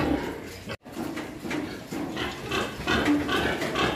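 A sow with newborn piglets on a pig farm, grunting and shuffling nearby with irregular low snorts and squeals over a rustling background.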